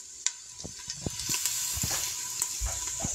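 Chorizo browns in a hot pan with a steady sizzle and frying hiss, punctuated by scattered scraping knocks from a spoon stirring it.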